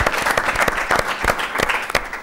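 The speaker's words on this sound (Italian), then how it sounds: "E anche con l'applauso." Loud, dense applause from an audience at a televised Teramo Channel show, steady claps filling the whole clip with no talk over it.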